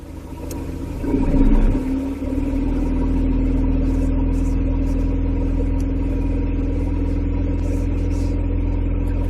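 A car engine revs up to about 2,500 RPM during an exhaust backpressure test, swelling briefly, then holding a steady, loud, close rumble with a constant hum.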